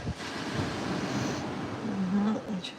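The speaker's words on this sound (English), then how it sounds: "Surf's up." Surf on a windy Nova Scotia beach: a continuous broad wash of breaking waves with gusty wind buffeting the microphone, loud and close throughout.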